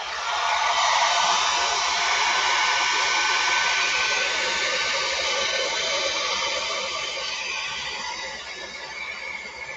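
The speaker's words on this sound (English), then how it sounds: "So Avocado doesn't mind the hairdryer, but obviously she does mind like a vacuum" A hair dryer blows steadily and loudly for about ten seconds, a close, constant airy roar that eases slightly near the end.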